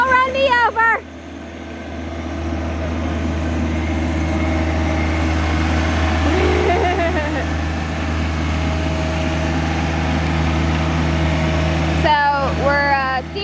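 A tractor engine runs at a steady idle, its low droning hum continuing throughout, with people briefly talking over it at the start and end.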